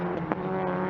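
A race car in an Ameo Cup circuit race powers out of turn 11, its engine holding a steady, close, continuous drone with one brief swell partway through.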